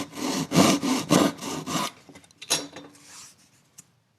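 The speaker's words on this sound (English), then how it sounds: "I'll just take a little handsaw, and I'm going to cut right on that to cut this piece off" A small handsaw cuts through a wood piece, giving six even rhythmic rasping strokes that then trail off into a few lighter scrapes and a final small knock.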